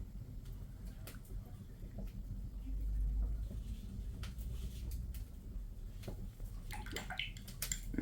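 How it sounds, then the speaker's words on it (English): Paintbrush swished and rinsed in a water pot to wash out watercolour paint, soft sloshing and small splashes close by over a low steady background hum, with a livelier splash near the end. "I'll just wash that colour out of my brush"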